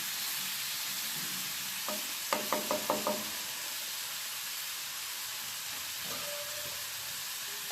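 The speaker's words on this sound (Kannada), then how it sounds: "ಸ್ವಲ್ಪ ಬೀಟ್ರೋಟ್, ಚೆನ್ನಾಗಿ ಫ್ರೈ ಆಗಿರೋದು." Beetroot fries in a pan for vegetable palav, giving a faint, steady sizzle with a quick burst of spatula scrapes and clinks in the middle.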